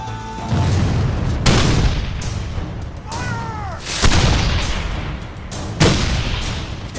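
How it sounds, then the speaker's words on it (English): Civil War artillery fire in a Battle of Gettysburg reenactment, a series of loud, close booming cannon shots spaced a second or two apart, each with a rolling tail, and a brief whistling sound between them. "Firing the 11th Corps from a hill above town is Lee's newly appointed Lieutenant General Dick Ewell."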